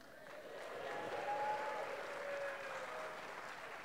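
A studio audience applauds at a live talk event, a soft wash of clapping that swells and holds for a few seconds, fairly faint and distant.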